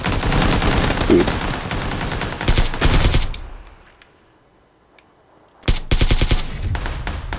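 Suppressed AK rifle fire in a video game, loud rapid automatic bursts that stop for a couple of seconds, leaving near silence, before another burst resumes.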